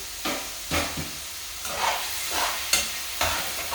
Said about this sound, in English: Okay, so occasionally you want to stir it.